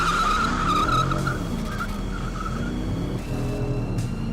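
A 2013 Dodge Charger Pursuit police car launches from a standstill toward 60 mph with traction control off, its engine note climbing steadily under a continuous tire squeal, loud and close with no talking.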